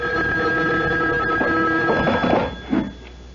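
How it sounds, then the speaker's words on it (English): A telephone rings in a late-night radio mystery drama: a steady electric ring lasting a few seconds, fairly loud and close, before trailing off with a brief clatter at the end. "The phone. At this hour?"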